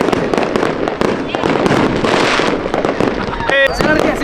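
Fireworks at a large Fourth of July show crack and burst repeatedly in dense, loud volleys, nearby and continuous, with people talking over the blasts.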